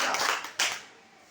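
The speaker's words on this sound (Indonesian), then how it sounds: "tepuk tangan untuk Ricky." A classroom of students claps hands in a brief, dense burst of applause that fades within about a second, with no voices over it.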